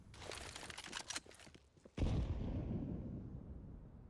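A grenade goes off in Counter-Strike on the Overpass map: several rapid bursts of gunfire come first, then after a short lull a loud, close blast with a long rumbling decay.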